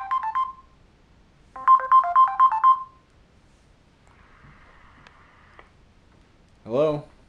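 A phone plays two short bursts of a beeping electronic ringtone, close and clear, followed by a quieter tonal stretch and a brief voice.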